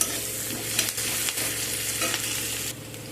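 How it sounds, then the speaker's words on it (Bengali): One medium onion sizzles in hot oil as it browns toward reddish, a dense, even frying hiss broken by a few stirring scrapes, close and unaccompanied by speech. "পেঁয়াজটাকে এখন আমি একটু লাল লাল করে ভেজে নেব"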